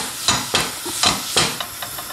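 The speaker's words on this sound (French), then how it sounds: "J'ai mis la poêle anti-adhésif sur le feu et là, je vais la graisser légèrement avec un sopalin avec du beurre." A paper towel smeared with butter is wiped across a hot non-stick crêpe pan on the stove, making about eight rhythmic, close swishing and sizzling strokes with no talking.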